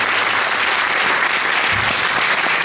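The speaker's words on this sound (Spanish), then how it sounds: "Así que fuertes aplausos, por favor." Loud, dense applause from an audience at a Peruvian anniversary celebration in Brussels, a steady wash of clapping filling the whole moment without pause.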